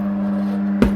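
A tyre bead snaps onto the rim by the valve on a Twin Busch TW X 98 tyre changer, a single sharp thud standing out against a steady machine hum.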